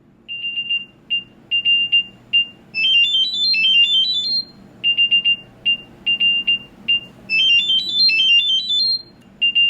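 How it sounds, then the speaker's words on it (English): Samsung Galaxy Buds 3 earbuds ring to be located, playing repeated bright electronic beeps in short bursts alternating with rising chirping trills, clear and close in a quiet room. "the earbuds themselves will ring"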